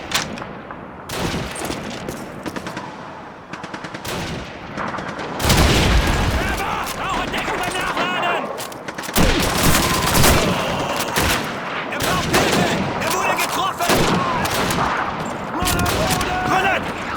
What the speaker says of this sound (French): Mitrailleuse! Une MG42!